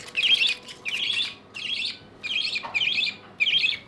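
A featherless baby budgie chirps and squawks in six short, bright bursts separated by brief pauses, close and clear with no talking.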